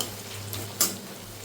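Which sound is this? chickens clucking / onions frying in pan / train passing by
onions frying in pan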